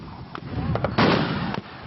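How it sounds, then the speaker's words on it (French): Artillery cannons firing during a Northern Alliance military exercise: a few separate booms and bursts, with one heavier blast near the middle over a rumbling outdoor background. "les troupes de l'Alliance du Nord préparent la manœuvre, règlent le tir de leurs canons"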